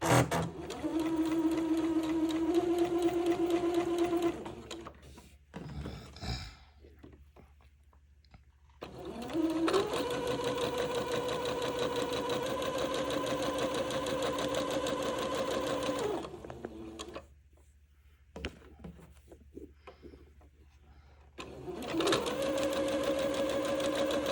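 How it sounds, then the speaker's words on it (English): A home sewing machine runs in long steady bursts while stitching basting threads a quarter inch from the edge of fabric for a Christmas dress, close and loud, pausing briefly between runs and restarting with the same even whirr. "I'm going to sew the first basting thread about 1/4 inch away from the edge of the fabric"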